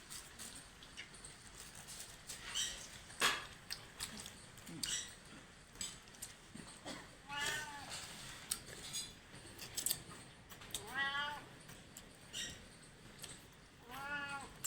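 A cat in a village home meows several times at close range, its short rising-and-falling calls standing out over faint clatter and quiet background.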